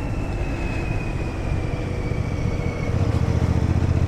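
A 2025 Royal Enfield Bear 650 motorcycle engine drones steadily and close, swelling slightly louder toward the end, with no voices.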